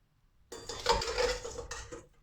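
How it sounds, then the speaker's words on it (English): Ravioli plated into a bowl with a short run of clinking and scraping of dishes and utensils, close and moderately loud, without talk. "And now I'm going to plate them in my bowl."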